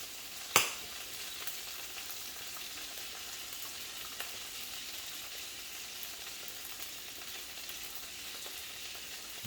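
Eggs frying over easy in a pan give a faint, steady sizzle throughout, with one sharp clack near the start.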